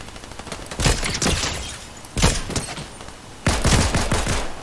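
Bursts of gunfire in Fortnite rattle in three separate volleys of rapid shots, loud and close with short gaps between, no voices over them.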